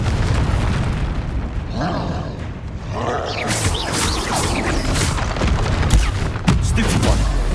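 Repeated Confringo spell blasts in the video game Hogwarts Legacy, loud booming fiery bursts over continuous game noise and music, with a voice shouting spell names.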